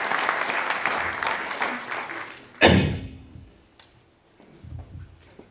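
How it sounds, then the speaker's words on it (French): An audience at a round-table meeting on wind turbines in the Indre department applauds the prefect, a brief burst of clapping that ends in a sharp thump, then fades to quiet with faint sounds. "je pense qu'on peut applaudir monsieur le préfet de sa présence"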